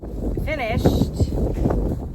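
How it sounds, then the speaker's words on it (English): Blustery outdoor wind buffets the microphone with a steady low rumble, and a brief high whistling tone wavers early on. "the wind is pretty windy out"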